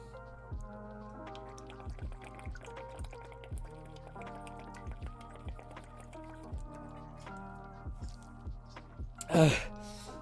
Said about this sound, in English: I drink some water.